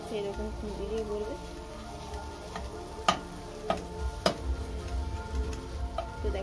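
Chana dal filling stirred with a metal spatula in a pan for dal puri, giving close scraping clinks and a steady low sizzle, with occasional sharper taps against the pan.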